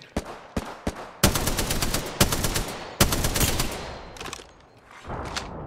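Gunfire in the battle royale game Apex Legends, sharp single shots followed by loud sustained bursts of automatic fire, close and dominant, with no talk over it.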